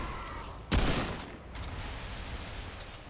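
Gunfire rings out while shooting enemies in the video game Remnant II, one loud burst of shots followed by fainter echoing reports over a steady background ambience.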